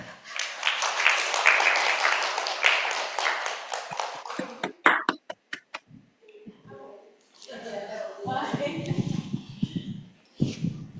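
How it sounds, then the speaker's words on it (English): Applause from the audience at an academic lunch talk on safeguarding children in educational research, a few seconds of steady clapping that breaks into scattered separate claps and then gives way to people talking. "Please give the warm applause."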